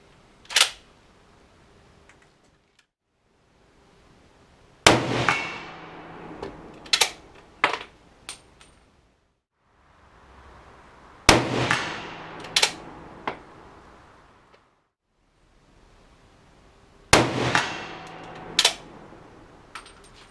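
Three loud K31 rifle shots at an outdoor shooting range, each a sharp crack with a short echoing tail and a couple of smaller clicks and knocks from handling the rifle after each, spaced several seconds apart in an otherwise quiet setting.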